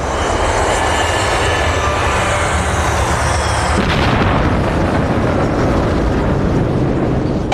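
An American Airlines heavy jet, flight 587, roaring in a loud sustained engine rush before a sudden heavy impact boom, followed by continuous dense crashing noise.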